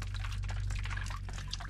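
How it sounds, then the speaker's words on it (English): Meltwater from snow drips and trickles into a small backyard rainwater tank under a roof edge, a close, continuous splashing patter of drops over a low rumble. "Sound of dripping water."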